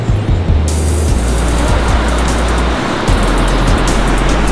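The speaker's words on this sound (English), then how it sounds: "Calming waves." Calm ocean waves at an Oregon coast beach, a loud, continuous wash of surf with a broad steady roar and low rumble, close and unbroken, no talk.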